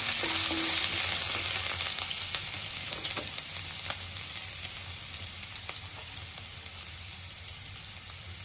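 Chopped garlic and ginger hit hot oil and crackle loudly up close, a dense sizzle with scattered pops and scraping stirs that eases slightly toward the end, no speech.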